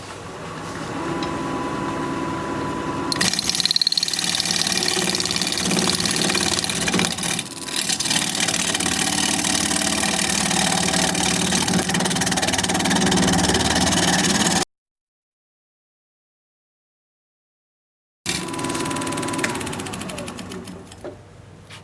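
A wood lathe spinning a piece of yew at 1100 RPM drones with a steady, close motor hum while the bottom end is flattened; the sound cuts out briefly, then resumes.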